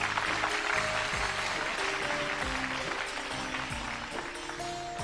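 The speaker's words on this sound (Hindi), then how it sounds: "बजाओ जी तालियां तीनों के लिए।" An audience in a studio show claps for three women, a broad continuous burst of applause that stays loud and full throughout, with a faint musical tone underneath.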